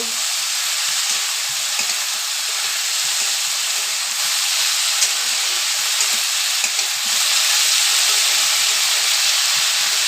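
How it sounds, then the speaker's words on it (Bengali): Potatoes for an egg and potato chochchori fry in oil with a steady, close sizzle and crackle that holds evenly throughout, with no voices. "ভালো করে আলুটাকে ভাজতে হবে।"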